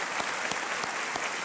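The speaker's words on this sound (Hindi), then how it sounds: "एक बार तालियों के साथ इनका अभिनंदन" Audience applause on the set of the Indian TV quiz show KBC (Kaun Banega Crorepati), steady broadband clapping from a studio crowd with a few sharper claps standing out, continuous throughout.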